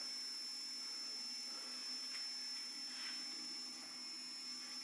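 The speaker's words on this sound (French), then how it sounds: "mis à part le bruit de ce moteur, on n'entend absolument rien pour cette machine" The motor of a NOVA3D Elfin2 resin 3D printer moves with a faint, steady whine and hum in an otherwise quiet room, with slight swells in pitch.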